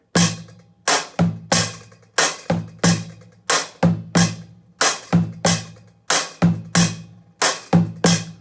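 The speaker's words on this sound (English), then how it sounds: "So then you can play both the bass drum and the snare with one hand." Bass drum and snare played with one hand on a drum kit, a slow steady pulse of evenly spaced hits, each a sharp punchy attack with a short decaying ring, loud and close with no talking.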